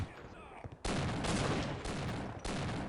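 Sniper gunfire in the Half-Life: Opposing Force video game, loud sustained bursts of shots in three or four close, heavy volleys with brief gaps between them, following a quieter opening.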